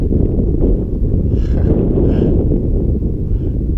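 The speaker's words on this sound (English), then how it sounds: "Ooh, look at that wind." Strong wind buffeting the microphone outdoors, a loud continuous low rumble that swells slightly and never lets up.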